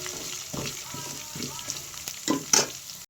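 Curry leaves, cumin and crushed black pepper frying in a pan for Tenkasi-style pepper rasam, a close crackling sizzle with repeated spoon scrapes and a few sharper clinks near the end.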